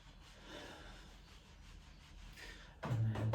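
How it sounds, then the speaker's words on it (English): Hands rubbing the lower back in a steady, soft, papery friction during a qigong relaxation routine, faint and continuous, ending in a louder, heavier rub. "massaging the lower back, rubbing the lower back"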